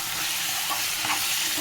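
Cumin and garlic paste sizzles steadily in a pan over a low flame, a soft continuous frying hiss with faint stirring and no talk.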